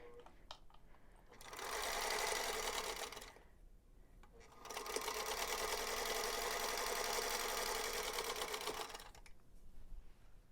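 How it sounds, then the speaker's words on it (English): A sewing machine chain stitches quilt block units in two steady bursts, a short run and then a longer one, loud and close with a brief pause between and no talk over it. "sew all of the units together as we are doing here"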